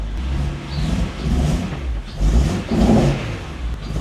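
BMW E92 M3 with its S65 V8 revving in rising and falling surges, close and fairly loud, with no talking.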